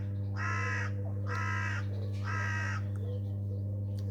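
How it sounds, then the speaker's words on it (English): Seagulls call three times in a quiet village at golden hour, each a loud, drawn-out cry with short gaps between, over a steady low hum. "seagulls."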